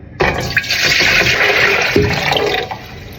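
Water pours steadily into a large cooking pot for making Jamaican sorrel drink, about three seconds, a full rushing splash with no one speaking.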